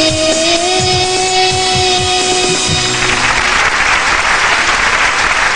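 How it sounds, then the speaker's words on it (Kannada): Loud, dense audience clapping erupts after a child's song performance, building into a sustained burst of applause close to the recording, with sung tones fading out beneath it at the start. "ಚಪ್ಪಾಳೆ ಸಕ್ಕತ್ತಾಗಿ ಬಂತು ಬಿಡು"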